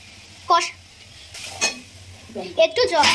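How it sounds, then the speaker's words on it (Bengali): Ginger garlic paste, turmeric and a little water being sautéed and stirred in a pan for prawn malai curry, with soft sizzling and a few scraping stir strokes, close and moderately loud. "জিরা আর শুকনো লঙ্কা দেওয়ার পর এখন আদা রসুনের পেস্ট দেওয়ার পর দিয়ে দিচ্ছে একটু জল দিয়ে আর হলুদ দিয়ে এখন কষাতে হবে"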